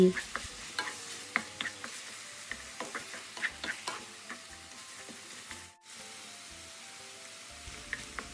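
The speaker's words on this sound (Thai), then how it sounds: "ผัดไปเรื่อย ๆ จนกระทะเริ่มแห้ง" Garlic pepper minced pork is stir-fried in a wok with a continuous close sizzle and repeated quick scrapes and taps of the spatula, briefly dipping near the end.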